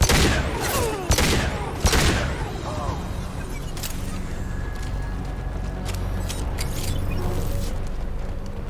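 Gunfire in Mass Effect 2: three sharp, loud shots in quick succession, then a steady din of combat noise and scattered, fainter shots.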